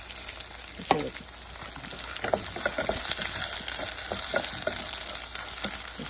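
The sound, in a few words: rice frying and browning in a pan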